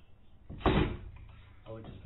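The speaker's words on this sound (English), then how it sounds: "I just gotta hang the door now" Hanging an accordion door inside a converted bus: a close knock and clatter of the folding panels as the door is fitted, followed by smaller rattles and shuffling, with a person talking quietly.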